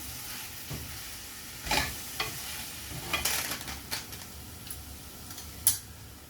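Radish sambar is stirred in a pan, giving soft intermittent scrapes and ladle taps with a few sharper clicks over a quiet, low simmering sizzle. There is no talk.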